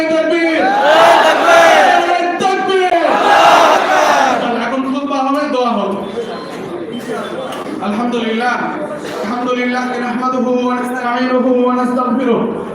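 A large crowd at a religious gathering chants together in unison, loud voices rising and falling in two long swells, followed by steadier group recitation.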